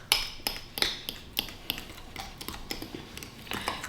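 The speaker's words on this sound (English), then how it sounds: "I'm just going to vigorously mix this with a fork" A fork vigorously mixing mascarpone cheese, sugar and Marsala wine in a bowl, giving a quick irregular series of sharp metallic clicks and taps, fairly quiet and close, with no talking.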